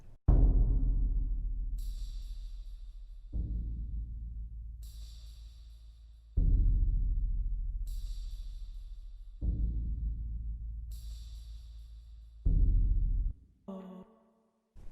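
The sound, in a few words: kick drum and tambourine beat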